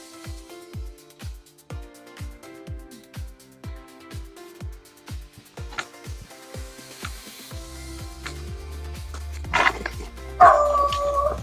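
Dog on a farm giving a steady run of regular barks or yips, moderately close, with other faint background sounds and a brief burst of louder activity near the end.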